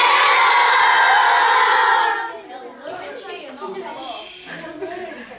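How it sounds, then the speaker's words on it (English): Group of children loudly cheering and shouting together for a cameraman, a dense burst of young voices lasting about two seconds, then dropping to scattered chatter and individual kids' voices. "So you want to give him a big cheer?"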